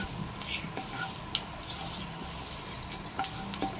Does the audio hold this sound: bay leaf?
yes